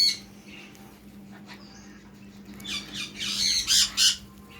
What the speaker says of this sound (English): Not only are they hearing the bird sounds and the calming music, they're also watching the other birds.